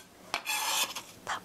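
Garlic chopped in a hand-pulled food chopper for Korean braised tofu, a short close rasping, grinding run with a few brief scraping bursts, no talking.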